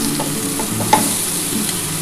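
Stalk vegetables for a Bengali chorchori fry in a pan with steady broadband sizzling throughout, broken by a few soft stirring scrapes and one brief clink near the middle, with no voices.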